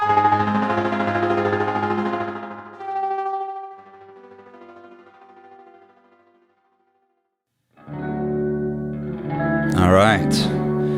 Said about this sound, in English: It's a very unique sounding pedal.